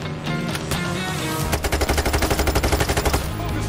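Gunfire in the heist shooter Payday 3: a single loud crack, then a fast, evenly spaced automatic burst of shots close by, with no talking.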